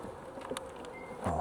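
Honeybees buzzing around a hive, a close, continuous insect drone with a few louder passes as individual bees fly near, no voices.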